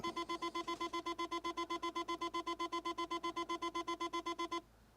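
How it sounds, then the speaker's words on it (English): A Jaguar XK8 car alarm beeps in fast, even repeated pulses after the ignition is turned off, moderately loud, then cuts off abruptly just before the end. "It'll alarm, but it'll stop in a minute."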